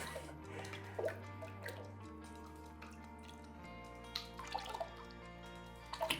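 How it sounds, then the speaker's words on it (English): A pottery mug dipped into liquid glaze lets faint, scattered drips and small splashes fall back into the bucket, quiet against a steady low hum in the room. "I'll swiftly continue on to dip the outside of the mug in the glaze"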